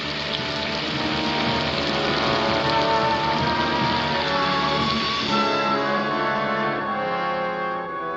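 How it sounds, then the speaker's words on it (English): Heavy rain from a storm pours steadily onto surfaces, a dense, continuous hiss that stays loud throughout and eases slightly near the end, with no talk. "I'm glad the storm's over."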